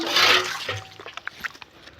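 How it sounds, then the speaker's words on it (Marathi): Water gushes in a short, heavy splash onto the ground around a mango tree, then trails off into scattered drips and trickles; no one speaks. "पाणी असं पाणी घालतो मी आंब्याला."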